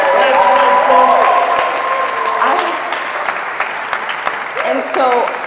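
Audience applause at an indoor talk and creative session, a dense sustained clatter of clapping hands that stays loud throughout, with a few voices calling out on top.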